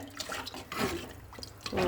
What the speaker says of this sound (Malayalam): ഇതിലേക്ക് ആവശ്യത്തിന് വെള്ളം ചേർത്ത് കൊടുക്കുന്നുണ്ടേ